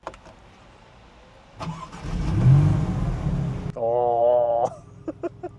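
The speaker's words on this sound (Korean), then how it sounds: "시동 한번 걸어볼까요?" A Maserati MC20 Cielo sports car cranks and fires up with a loud rising roar, then settles into a throbbing idle before cutting off. A voice speaks before and over the start.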